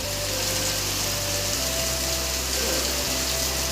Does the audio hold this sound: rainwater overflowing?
yes